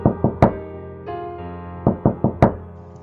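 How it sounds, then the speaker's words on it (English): A creature's claws tap on a door's spyglass hole: three quick sharp knocks, a pause, then four more in a rapid run, over a low sustained musical drone. "the creature then lifted its claws from the door and began tapping on the outside portion of the door's spyglass hole"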